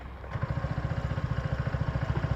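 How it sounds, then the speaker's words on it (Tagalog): A CFMoto Aura 150 scooter engine fires up and settles into a steady, moderately loud idle with an even rapid thumping pulse, no voices over it. "So sa startup idle ng bike, hindi ganun katahimik."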